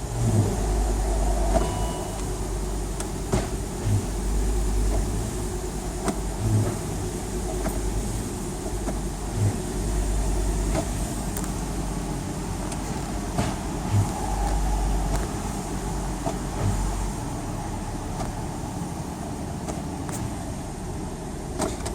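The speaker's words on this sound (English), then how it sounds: "we're just going to start it up, run through the gears." A car with an AW55-50SN automatic transmission idles steadily after starting, its engine a continuous low rumble with faint periodic thumps as the gears are run through, close and alone with no talking.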